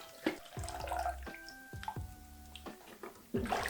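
Water splashes and trickles over developed film during home processing, with sloshing pours, drips and hollow vessel knocks close up, and brief ringing tones as containers are handled.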